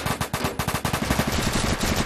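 Rapid automatic gunfire from an MP5 in the Roblox game Oil Warfare Tycoon rattles in a steady, loud, close burst of evenly spaced shots with no talking.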